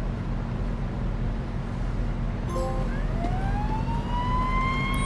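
Emergency siren in the Police Simulator: Patrol Officers game, a rising wail that starts midway and climbs steadily over a steady low rumble of street ambience, moderately loud with no talk.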